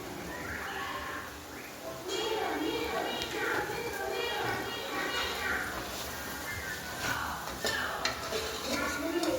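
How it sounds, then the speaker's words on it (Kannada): Sambar with dantu stems, salt and spices is stirred in a pot over a low gas flame, with a spoon scraping and clinking against the metal and a soft sizzle under it, while a voice talks over it. "ರುಚಿಗೆ ತಕ್ಕಷ್ಟು ಉಪ್ಪನ್ನು ಸೇರಿಸಿ ಚೆನ್ನಾಗಿ ಮಿಕ್ಸ್ ಮಾಡ್ಕೊಳ್ತಾ ಇದ್ದೀನಿ"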